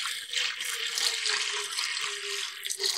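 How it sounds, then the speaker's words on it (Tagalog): Water runs steadily into a cooking pot, set to boil for chicken necks in a cheesy neck recipe, a continuous close gushing and splashing with a faint rising tone as the pot fills. "Magpakulo na tayo ng tubig."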